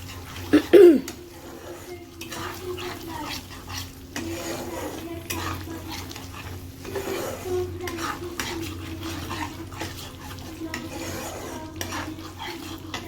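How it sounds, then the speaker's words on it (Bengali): A pan of turmeric and spices for a fish curry is stirred steadily with a spoon, making continuous scraping under a low sizzle, with one sharp clatter near the start. The stirring is close and moderately loud. "হলুদটা দিয়ে বেশ ভালো করে নাড়তে থাকবো"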